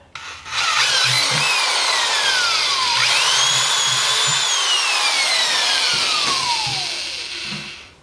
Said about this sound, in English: Just take this bucket and drill a hole in it right where it is.